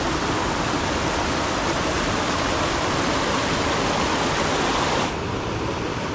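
Creek waterfall pouring steadily nearby, a loud unbroken broadband rush of falling water that drops slightly in level near the end, with no voices.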